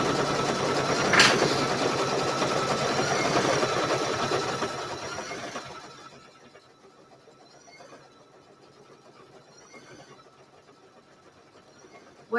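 An embroidery machine stitches a March snap-appliqué mini quilt with a steady, fast mechanical whir. The whir runs loudly for about five seconds, then stops, leaving quiet room tone and a few faint clicks.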